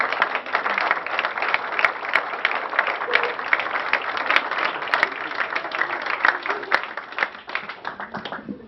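Steady, fairly loud applause from a graduation audience continues without a break, dense clapping with a few sharper claps standing out, tapering slightly near the end.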